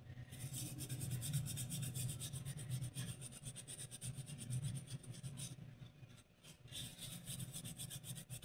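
A medallion is scrubbed clean with soap in a steady, continuous rubbing and scraping that stays close and fairly quiet, easing briefly near the end, with no talk.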